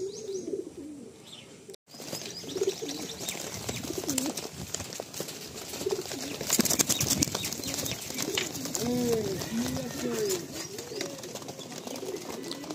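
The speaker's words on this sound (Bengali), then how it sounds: "সব রকম পায়রাই এখানে রয়েছে" Several pigeons cooing in a loft holding many breeds, repeated rolling coos near and far with bursts of wing flapping and rustling, busy and fairly loud throughout.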